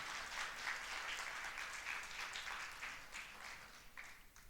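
A church congregation claps loudly in praise, a dense, continuous roll of many hands that holds steady for several seconds before thinning slightly near the end.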